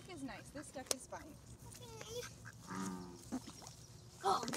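Ducks call nearby outdoors with a string of honking quacks at moderate volume, mixed with people talking close by.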